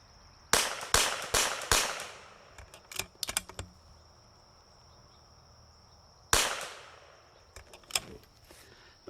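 A CZ 455 rifle fires a group of sharp, loud shots, five in quick succession, then a few more scattered cracks and one more shot after a pause, each decaying quickly with no talk.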